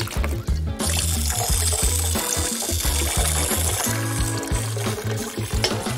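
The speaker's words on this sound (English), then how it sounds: "Let's add a cat water fountain." Water pours and trickles into a cat water fountain, a close, steady gurgling stream under a rhythmic low hum.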